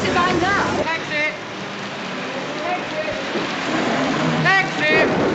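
Rain falls on a night street outside a theatre in a 1938 film scene, a constant hiss beneath several people speaking and calling out in bursts.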